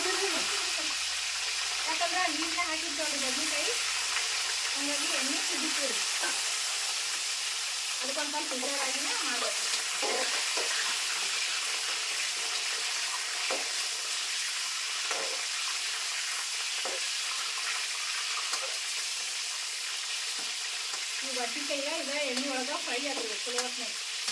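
Brinjal pieces fry in hot oil with a steady, loud broadband sizzle throughout, occasional stirring scrapes, and a voice talking in brief stretches over it.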